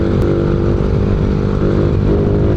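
Rusi Flash 150X motorcycle engine running close and loud, a steady throbbing idle with a rough, even rumble held throughout and no talking.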